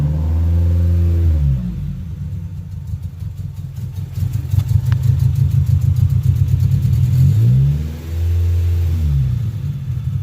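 A 2019 Chevrolet Camaro SS V8 with its secondary cats deleted and a faulty idle air control valve rumbles loudly and steadily, with two brief revs that rise and fall, one near the start and one near the end.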